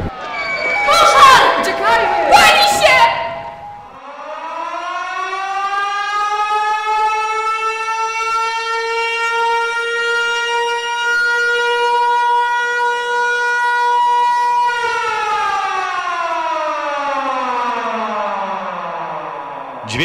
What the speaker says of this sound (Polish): Dźwięk syreny alarmowej